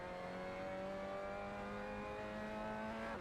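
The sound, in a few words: car engine accelerating in Assetto Corsa racing game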